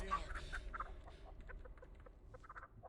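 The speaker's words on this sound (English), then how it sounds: "Oh, we went to the chicken." Chicken clucking in the Texas Chain Saw Massacre video game, a series of short, soft clucks repeating irregularly over quiet background ambience.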